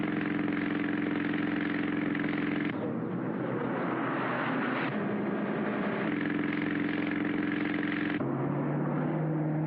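A 1940s car engine runs steadily during a police chase, a continuous mid-pitched drone with a few shifts in tone, close and unbroken, with no talk over it.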